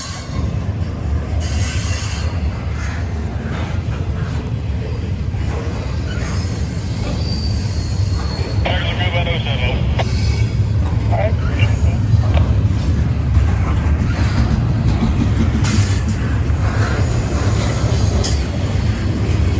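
Long freight train loaded with many multicolored shipping containers rolling past: steady loud rumble and clatter of railcars with repeated high metallic wheel squeals, with people talking at times.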